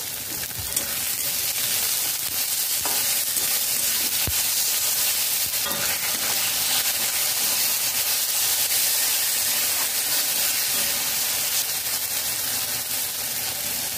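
Onion, chopped tomato and green chili frying in a pan for a fish cutlet filling, giving a continuous close sizzle and hiss with occasional soft spatula scrapes throughout.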